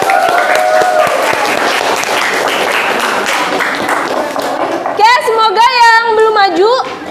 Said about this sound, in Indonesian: kasih aplaus buat teman-temannya